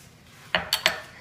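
A spoon stirs sifted maida flour into batter in a bowl, giving three quick, bright clinks against the bowl after a quiet moment.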